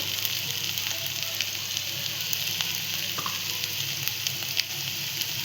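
Ivy gourd and potato curry (tondli bhaji), salted, sizzling steadily in a pan as it is stirred, a continuous close frying hiss with faint scrapes of the spoon and no talking.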